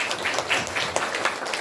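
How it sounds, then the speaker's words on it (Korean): Church congregation applauding elders and deacons who provided lunch, a short burst of scattered clapping from a modest crowd, moderately loud and steady throughout. "한번 박수해 주시겠습니다"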